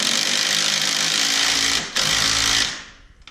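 A power driver whirs steadily as a screw is run into a tube for rock sliders on a RZR, about two seconds of loud close driving with a short break before winding down.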